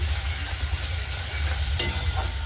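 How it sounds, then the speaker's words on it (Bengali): Spices sizzle steadily in a hot pan over a low hum, with a brief scrape partway through. "মশলাটা দিয়ে ভাজা ভাজা করে নিই"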